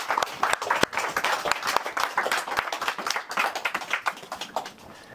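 At a boxing night, just before a women's bout, the audience applauds the fighter in the red corner, a sparse, crisp patter of individual hand claps that thins out toward the end.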